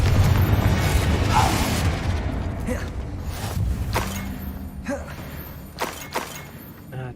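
Confringo fire spell blasts in Hogwarts Legacy combat on maximum difficulty, heard as a dense, loud booming mix with several sharp bursts and cracks over a busy rumbling battle bed, no voices.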